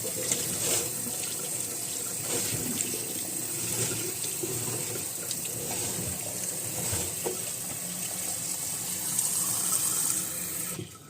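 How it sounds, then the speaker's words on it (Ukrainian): Cold tap water runs steadily under a kitchen faucet, rinsing cucumbers for pickling, a continuous close splashing stream filling the whole stretch with no talk. "Огірочки зараз буду промивати в холодній воді. Прямо під краном."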